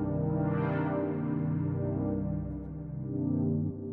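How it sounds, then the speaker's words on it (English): Smooth, futuristic synth pad built with Ableton's Analog synth: a sustained, warm chord with rich harmonics and a filter that opens and brightens briefly before settling into a steady, soft wash, heard alone and close. "the way that I made this sound was with Ableton's analog"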